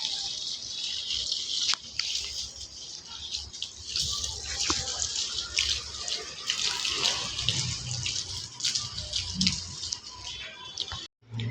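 Steady rush of water pouring from a tap, a continuous hiss close by with small splashes and clatter, briefly cutting off near the end.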